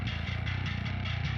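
Heavy metal bass mix run fully wet through a Microshift stereo widening effect, a dense, thick low-end chug with steady pulsing notes and a bright upper haze, quiet overall and continuous.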